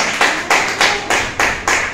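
Congregation at an evangelical church service clapping in a strong, even rhythm, about six sharp unison claps close and loud over roughly two seconds, with no talk.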